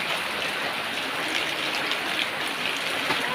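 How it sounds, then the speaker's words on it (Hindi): Steady rain pours down in a continuous, even hiss with no breaks, filling the whole stretch without any voices. "देखिए कते पानी पड़े छे"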